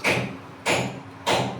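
Crunchy fried snacks made for morning tea are handled, giving three short, dry, crisp rustling bursts close by, spaced about half a second apart, with no talk.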